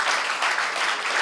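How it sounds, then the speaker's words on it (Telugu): A congregation at a church sermon clapping in praise, a brief burst of brisk, dense applause that stays even from start to finish. "క్రీస్తు రాకడ వరకు చప్పట్లు కొట్టి ప్రభుని మహిమపరచాలి"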